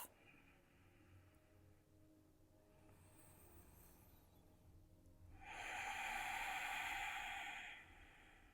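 Ujjayi breathing during a yoga vinyasa flow, a soft oceanic rasp from the throat, faint and hushed at first, then swelling into a louder, longer breath toward the end, with no talking.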